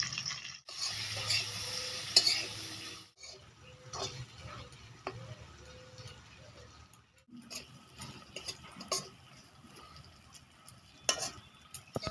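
A soft sizzle of pointed gourd peels frying in a pan with turmeric and salt, with light stirring clicks and scrapes now and then, close by and fairly quiet.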